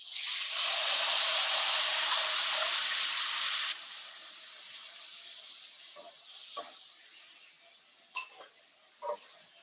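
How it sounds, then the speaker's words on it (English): Rice grains sizzle in a hot pan with a little water, giving a loud steady hiss that eases after a few seconds, then quieter frying with a few sharp clinks near the end. "So my rice is sizzling because I had a little water in my bowl."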